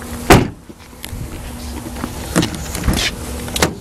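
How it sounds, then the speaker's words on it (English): The trunk of a blue 2010 Dodge Challenger is popped open: a sharp latch click followed by a few lighter mechanical clunks and thumps, close by. "Let me briefly pop the trunk."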